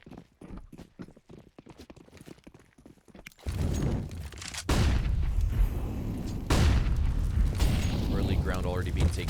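Counter-Strike match audio: a sharp high-explosive grenade blast in the sandbags area, then sustained loud rifle fire and bursts that carry on to the end, following a stretch of quick clicking footsteps and lighter clatter.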